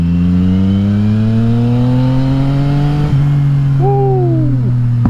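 Yamaha XSR900 motorcycle fitted with an Akrapovic exhaust, loud and close, its engine holding a steady drone that climbs slowly, then a sharp blip of revs that rises and falls near the end.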